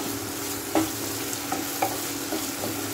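Yellow, red and green bell peppers stir-fried in a pan for a baby corn chilli, giving a steady soft sizzle with a few light clicks of stirring.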